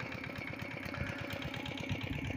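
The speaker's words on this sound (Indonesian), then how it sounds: "pembuatan bedengan menggunakan traktor Quick Kronos bermesin Kubota" A Quick Kronos hand tractor with a Kubota engine runs steadily while forming planting beds in a shallot field, giving a continuous mid-pitched chugging drone with regular pulsing throughout.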